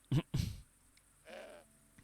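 Two short bleats from a goat in Broken Sword 5: The Serpent's Curse, loud and close, followed by a softer, longer animal call and a faint click.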